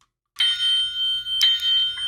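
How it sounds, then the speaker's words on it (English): A metallic bell from a Breaking Bad Hector Salamanca bobblehead dings loudly and close, a few bright rings in quick succession with a ringing tail, alone without talk. "Now, if you listen to the bell,"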